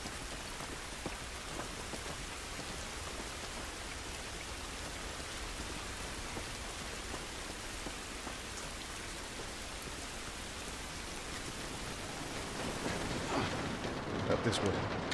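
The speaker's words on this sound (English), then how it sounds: "This rain ain't gonna do us any good." Steady, dense rain from The Last of Us Remastered patters and hisses continuously across the whole stretch. It is fairly faint and grows a little louder and rougher near the end, with no voices heard.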